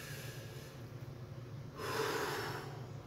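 A man wearing riveted chainmail draws one long, close breath in, a soft airy rush that swells midway and holds steady to the end.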